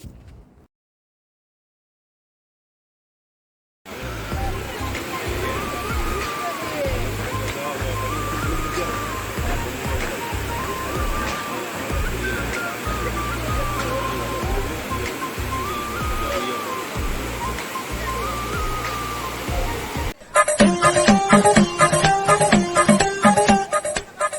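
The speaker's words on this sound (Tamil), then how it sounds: "இங்கே தண்ணி கொஞ்சம் கம்மியாக தான் விழுது" Courtallam main waterfall, flowing low before the season, gives a steady broadband rush of falling water after a few seconds of silence, with crowd voices mixed in and a louder, busier burst near the end.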